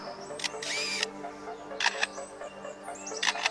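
A lyrebird imitates camera shutter clicks, producing several short, sharp mechanical bursts in small clusters, spaced apart and fairly close.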